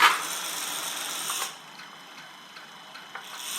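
A WLtoys V911 RC helicopter motor whines loudly at full throttle, then drops abruptly to zero throttle, leaving only a faint hum and occasional light ticks.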